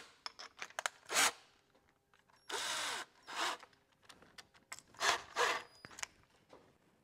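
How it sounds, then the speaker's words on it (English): A power drill fitted with a 3/4 inch bit drills into wood in short bursts, with whirring runs and clattering pauses between them, close and fairly loud. "Now you're going to take your 3/4 inch drill bit"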